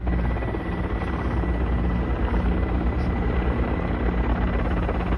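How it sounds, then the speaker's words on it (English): Military helicopters fly in formation over India's Republic Day parade full dress rehearsal, a loud, steady rotor roar and engine drone filling the air with no talk. "You can see the first formation flying in, consisting of 4 B-17, B-5 helicopters of 115 helicopter unit."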